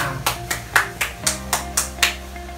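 Audience at an Indonesian talk about insecurity clap their hands in a brisk, even rhythm, about eight distinct sharp claps in unison over a steady faint background hum.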